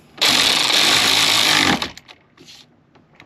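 A power tool whirs loudly and steadily for about a second and a half while tightening a bolt on a car dashboard, then stops, followed by faint clicks and handling noises.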